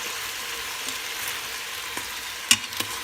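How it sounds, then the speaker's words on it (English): Vegetables sautéing in an Instant Pot for short ribs, a soft steady sizzle throughout with a few light clicks and taps of a utensil near the end. "saute the vegetables. Just for like a minute or 2, so they get a little bit soft"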